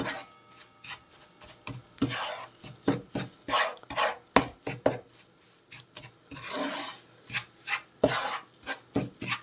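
Ingredients being stirred and roasted in a hot pan, with repeated sharp scrapes and knocks of a spoon against the pan over a light sizzle. The strokes come in irregular bursts, close and fairly loud, with no voices.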